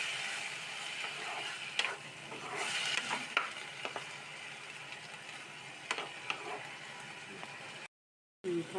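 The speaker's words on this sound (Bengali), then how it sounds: "এটা দিয়ে দিলাম, একটু ফ্রাই করব।" Chopped pineapple frying in a pan for a Bengali-style pineapple chutney, a soft, steady sizzle with occasional stirring clinks and scrapes close by, no talking, briefly cutting out near the end.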